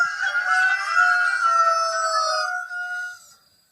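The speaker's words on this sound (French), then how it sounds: "Attends, pourquoi le coq chante autant?" A rooster crows loudly and close by, one long drawn-out call that holds steady for about three seconds and then fades out, with no other sounds around it.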